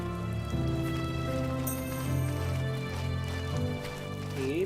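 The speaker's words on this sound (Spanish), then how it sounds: "Igual el sonido de la lluvia más o menos." Steady rain falls in The First Tree video game, a soft constant patter running beneath sustained, tonal game music throughout.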